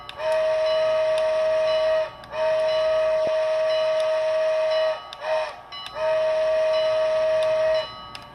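Sound system of a Bachmann GS4 American Freedom Train model steam locomotive playing a grade crossing sequence: loud sustained horn blasts, two long and one short, over a steady ringing bell, with no talking.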